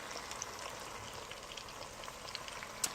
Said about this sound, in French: On va laisser revenir ça doucement dans l'huile, le beurre et les épices.